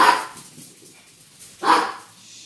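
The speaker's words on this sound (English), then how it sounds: "There's some walkers coming by and the dogs got excited." Dogs at home bark excitedly at walkers going past outside, two short bursts of barking separated by a quiet gap, fairly close and clear with no talking.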